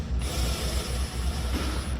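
A ratchet snugs a transmission pan bolt on a GM 10-speed automatic, giving a steady run of quick, close mechanical clicks that lasts the full two seconds with no talking.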